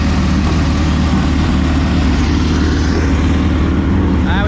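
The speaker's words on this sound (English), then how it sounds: "About to push out for some engine heat." A dirt track race car engine idles loud and close while warming up before practice on a wet, muddy speedway track, a steady low rumble running unbroken throughout.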